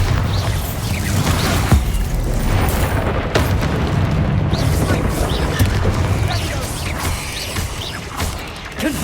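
Repeated Bombarda blasting-spell explosions in the Hogwarts Legacy video game, loud booming bursts filling a dense, continuous battle din with crashing impacts, while a voice speaks in the mix.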